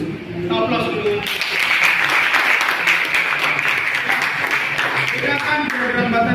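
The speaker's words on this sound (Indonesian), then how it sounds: "Aplaus dulu." A class breaks into applause, dense continuous clapping from many hands lasting several seconds, with voices mixed in underneath.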